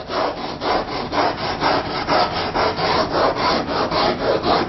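An 80-grit sanding stick is drawn back and forth across wood at a 45-degree angle, giving a loud, steady rhythmic rasping of even strokes, about two per second, close up with no talking.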